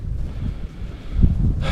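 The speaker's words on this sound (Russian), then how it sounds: "На улице плюсовая температура, но сильный ветер." Strong gusting wind outdoors by the water on a mild day, a low roaring rumble buffeting the microphone, swelling louder toward the end.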